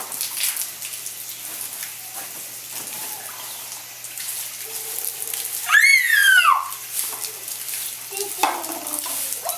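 Tap running in a home during a child's birthday, a continuous close wash of splashing water with a louder gush midway, under light background movement.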